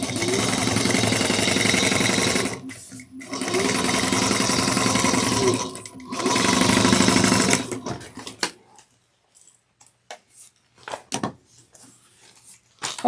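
A domestic sewing machine top stitches a bag lining in three steady whirring runs with short pauses between, followed by quieter clicks and handling noises of fabric being adjusted.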